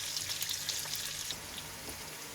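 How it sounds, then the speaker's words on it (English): Onions frying in a pan for lamb curry give off a continuous hissing sizzle with fine crackles, close and fairly faint, with no talking. "we'll just braise these onions so they're a bit translucent."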